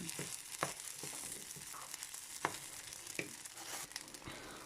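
Garlic fried rice with egg is stirred in a hot pan, giving a low steady sizzle broken by scattered scraping and clicking strokes of the utensil.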